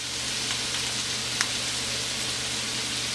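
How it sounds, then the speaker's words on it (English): Onions frying in hot oil while being stirred, a steady close sizzle with a brief scrape of the utensil partway through, no voices. "We can stir it slightly so that the oil coats the onions."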